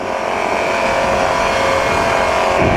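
A PeaBee light aircraft's engine roaring at full power during the takeoff climb, a loud, steady drone with wind rush, holding even and close throughout.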